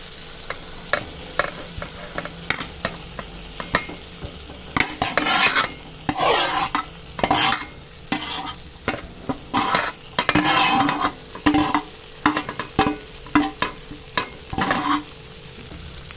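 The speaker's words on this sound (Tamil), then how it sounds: "இப்போ நம்ம வதக்கி வச்சுருக்கிற வெண்டைக்காயை இதில் கொட்டி கிண்ட போகிறோம்." Okra fries in masala in a pan while a metal spoon stirs and scrapes it in repeated clattering strokes over a steady sizzle. The sound is close and busy, with no voices.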